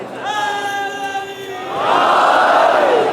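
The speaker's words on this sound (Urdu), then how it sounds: "معذرت کے ساتھ جتنے نعرے لگ رہے ہیں سن لیجیے گا" Congregation voices at a Muharram majlis in an imambargah ring out in a sustained chanted slogan, then swell into a louder collective shout that fades at the end.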